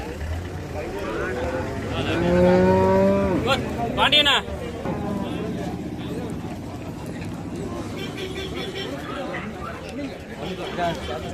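At the busy Erode Karungalpalayam cattle market, one cow lets out a loud, drawn-out moo nearby. Crowd chatter and a voice run throughout the clip.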